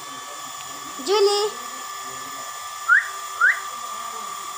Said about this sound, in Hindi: यहाँ पे मोटर चालू है इसलिए आपको आवाज आ रही होगी